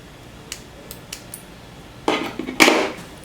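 Scissors snip thread out of a curly ginger pre-coloured 13x6x1 T-part lace wig, a few faint light clicks followed by a louder burst of close, crisp cutting and rustling near the end.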